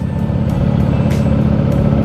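A bus runs close by on a road during a motorcycle ride, a loud steady engine rumble with low drone and brief hissing bursts, no talk.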